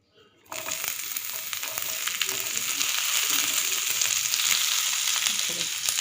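Chopped onion, tomato and garlic hit a hot pan and sizzle loudly, a steady bright frying hiss that builds after a brief quiet start and holds close and continuous.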